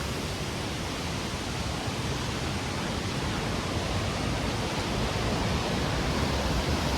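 Waterfall spilling over Karjan dam, a steady, dense roar of rushing water that holds constant and fills the whole scene, swelling slightly toward the end, with no voices.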